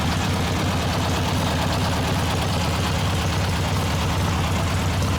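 A steady, even idle from a Harley-Davidson Ironhead Sportster XLCH engine at about 1,000 RPM, warmed up, rumbles continuously, low and close, with no pops or misses throughout.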